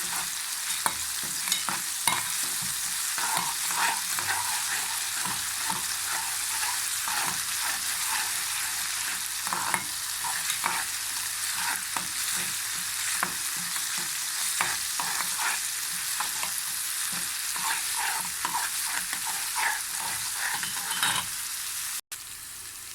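Garlic fried in fat as a topping for molokhia with shrimp: a long, steady sizzle with frequent scrapes and clinks of a stirring spoon, up close, then a brief cut near the end.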